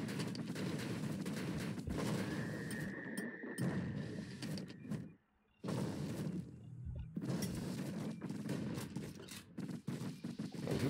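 Turret fire in the action RPG Bastion, a dense run of rapid gunshot-like blasts and impacts, loud and close, nearly continuous except for one brief lull around the middle.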